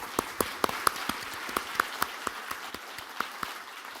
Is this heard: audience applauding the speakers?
yes